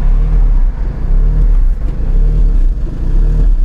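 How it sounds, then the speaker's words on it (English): An engine hunts at idle after its volumetric efficiency value is lowered, a loud rumbling note that surges and sags in an uneven rhythm with no talking. "Now our RPM is hunting. We have an unstable, a hunting idle."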